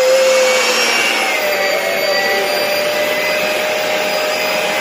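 Electric mixer beating ingredients for a Jamaican toto coconut cake, a loud, steady motor whine that holds its pitch throughout with no talking.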